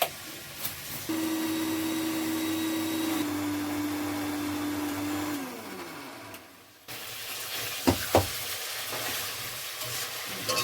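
Radhuni seeds with coriander and cumin sizzle in hot oil in a home kitchen, a steady close hiss with a faint electrical hum, which thins out and gives way to a few sharp clinks and knocks near the end.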